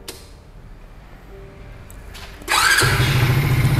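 A Honda Monkey-style mini bike with a Karisma 125cc engine and a smooth exhaust cranks quietly, then catches and jumps into a loud, steady idle.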